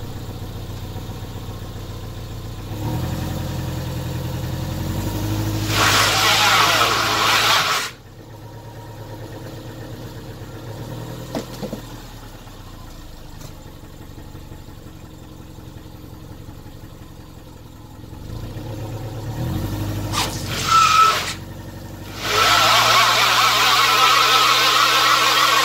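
A Subaru car runs during a wheel traction test, its engine droning steadily at close range, rising in a few louder surges that break off abruptly between quieter idling stretches.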